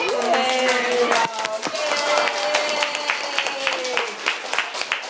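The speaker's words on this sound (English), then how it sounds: "Let's clap." An audience clapping, a quick irregular patter of hands that starts full and thins toward the end, with a voice briefly heard over the first moments.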